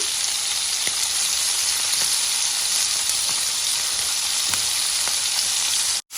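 Meat searing in a hot pan with fresh rosemary, a loud, dense, steady sizzle close up, with faint crackles throughout and a sudden brief cut near the end; no one speaks.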